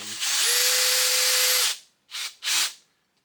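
A power drill drives 4-inch screws into a wall for a wall-mounted clamp rack, with one long whining run followed by two short bursts, close and loud.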